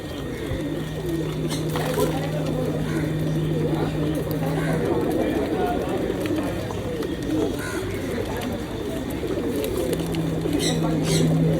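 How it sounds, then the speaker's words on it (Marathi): Many pigeons of different breeds coo in a steady, overlapping murmur at the Kurla pet market in Mumbai, with soft flutters and background chatter of people nearby. "वेगवेगळ्या कबूतर आहेत वेगवेगळ्या प्रकार प्रकारचे"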